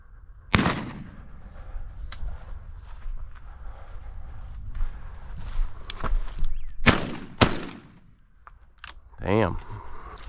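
Shotgun blasts during a desert quail hunt in Arizona, a few sharp reports spread across the clip, with outdoor rustle and shouting between shots.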